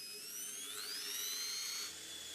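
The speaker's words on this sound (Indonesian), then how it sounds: "Hentikan pekerjaan ketika ujung bor menembus." Power drill boring a hole through a wall for Daikin split air conditioner piping, a steady high whine with a rising pitch that holds for about two seconds, close and fairly loud with no talk.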